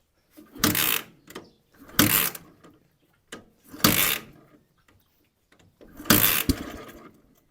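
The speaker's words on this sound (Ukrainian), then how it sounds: "І починаємо запускати при допомогі кікстартера." A Dnepr MT motorcycle engine being kickstarted, heard as four or five separate loud, close bursts of mechanical clatter from kicks on the kickstarter, with short quiet gaps between them and no running engine.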